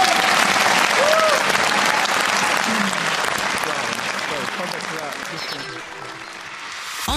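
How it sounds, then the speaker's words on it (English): A studio audience at a live radio debate on Scottish independence bursts into loud, sustained applause that gradually fades toward the end, with a voice speaking faintly over it. "Do give yourself a huge round of applause."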